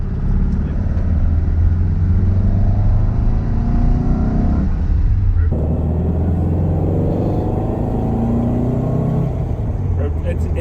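A Porsche 356 engine hums and drones steadily from inside the moving car, with a brief dip and gear change midway, loud and continuous.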